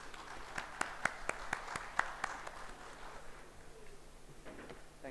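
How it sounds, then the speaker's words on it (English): Sparse applause from a small group at an HR conclave, a few claps ringing out clearly at first, then fading into quiet room noise. "Can we have a round of applause"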